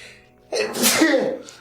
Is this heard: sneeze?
yes